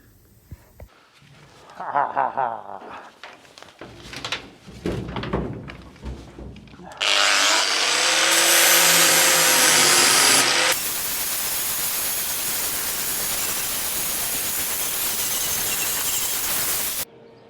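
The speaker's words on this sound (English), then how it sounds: "It is time to get the grinder back out and just nip off all these plug welds on here." An angle grinder is cutting off plug welds on a van body, a loud close, steady grinding roar that runs for about ten seconds after a stretch of softer handling and knocking noises.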